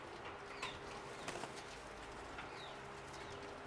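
A pigeon is handled by hand and gives a few faint, soft wing flaps and rustles against a quiet outdoor background.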